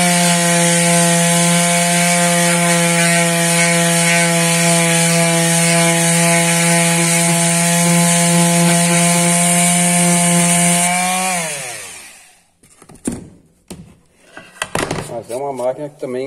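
Angle grinder roughing down wood, a loud steady motor whine with a grinding edge that runs continuously for about twelve seconds before spinning down and cutting off, followed by brief scraping and handling noises.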